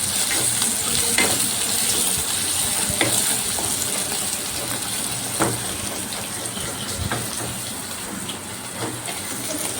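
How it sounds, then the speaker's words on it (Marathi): Chopped onions frying in a pan for a paneer dum biryani, with a continuous soft sizzle and occasional stirring scrapes, fairly quiet and close, with no talking. "हे छान मी फ्राय करून घेते आणखी थोडंसं कांद्याला"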